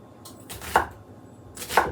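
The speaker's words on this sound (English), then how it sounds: "We're going to be dicing all these veggies up finely." Two sharp knife strokes land on a cutting board, about a second apart, as an onion is finely diced for steamed pork buns; close and clear, with quiet between the chops.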